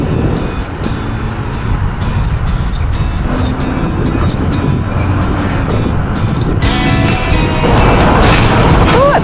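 Busy road traffic with many trucks near Jurong, Singapore: a dense, continuous roar of passing engines with sharp bursts like air brakes, loud and close, ending in a louder swell.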